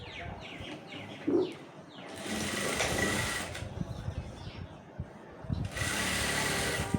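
A sewing machine stitches dress pants in short and longer bursts of rapid mechanical whirring, moderately close, separated by quieter pauses with faint background noise.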